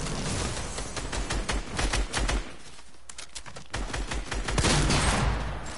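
Rapid bursts of video game shotgun fire crack close and loud in clusters, with short gaps between volleys and steady game noise underneath.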